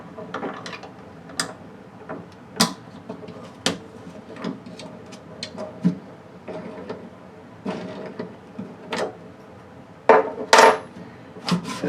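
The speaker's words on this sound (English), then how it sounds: "first things first is obviously we have to take this Allen bolt out" An Allen bolt is worked out of a Hatsan Blitz .30 caliber air rifle, giving sharp irregular metallic clicks and taps with scraping handling sounds in between, close and fairly quiet.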